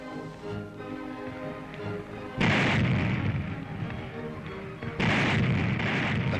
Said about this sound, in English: the vast explosions of her depth charges seal the fate of any U-boat in the vicinity